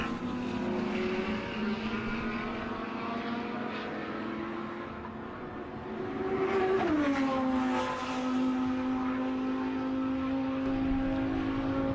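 Race car engines droning steadily during an endurance race, with a single sustained engine tone that drops and settles partway through as a car passes at moderate distance, and no commentary.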